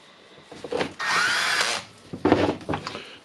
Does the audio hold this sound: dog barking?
no